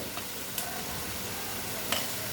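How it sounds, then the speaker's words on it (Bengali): Potatoes are being sautéed and stirred in a pan for matar paneer, giving a quiet steady sizzle with a few brief scraping clicks of the spoon against the pan. "আলুটা সহ কষিয়ে নিচ্ছি"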